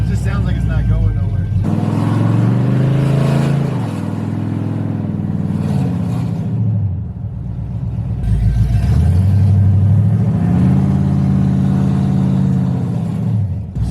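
A drag car fitted with open headers and a loose torque converter revs hard in two long bursts, the engine note sweeping up and falling back each time. The roar is loud and close, with people talking over it.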